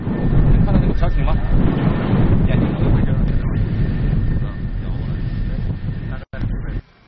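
A shipborne military helicopter flies low over pirate boats at sea, its rotor and engine roar loud and constant with heavy wind buffeting, briefly cutting out near the end.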